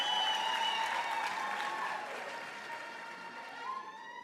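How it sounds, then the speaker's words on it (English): Applause from the audience at a university graduation ceremony, a broad distant wash of clapping that slowly fades, with a faint tonal ring running through the hall. "Can we give her a big round of applause?"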